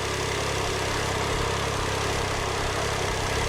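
A car engine idles at a steady, even rumble up close, constant and smooth without revving or voices.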